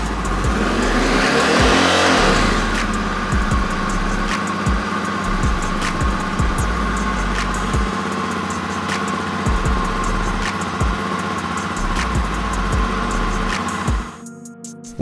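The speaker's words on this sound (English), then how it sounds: "let's warm up the bike for around 2 minutes so the oil will drain easily from the motor." A Honda CRF250F dirt bike engine warming up before an oil change runs steadily and loudly close by, with a brief rev near the start and a constant buzzing drone until it cuts out abruptly near the end.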